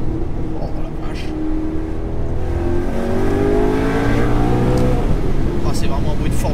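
A sports car engine in the video game Gran Turismo Sport revs and accelerates with a loud, steady, high-pitched roar whose tone climbs and sweeps upward throughout, heard close with no talking over it.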